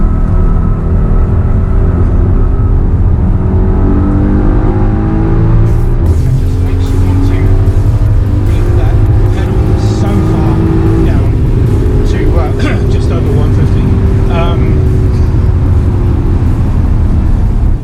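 A Mercedes-Benz car driving hard on a New Zealand race track, its engine droning loud and close from inside the cabin with rising and falling revs through gear changes, while people talk over it.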